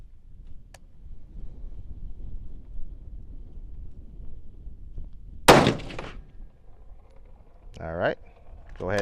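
A Ruger American rifle chambered in 6.5 Creedmoor fires one loud, sharp shot outdoors, a single booming crack amid quiet background, with people talking nearby afterward.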